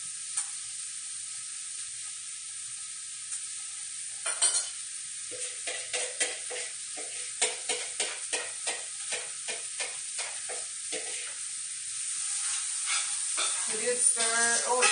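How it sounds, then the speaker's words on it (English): Vegetables hiss and sizzle in hot oil in a pan, a quiet steady frying bed broken by repeated crackling bursts and scraping stirs that get busier toward the end, with a voice speaking faintly. "You're probably going to hear it sizzle."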